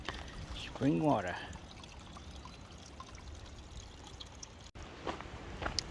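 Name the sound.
spring water pouring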